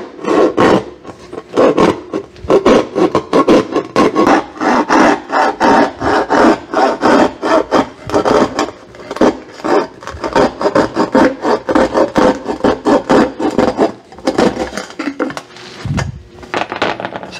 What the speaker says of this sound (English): I had a better angle with my coping saw, pretty flat like that, so I could see where I was going.